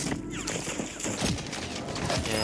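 Sniper rifle fire in an online shooter game comes in scattered sharp cracks amid dense, busy game noise, with a player's voice talking over the shots.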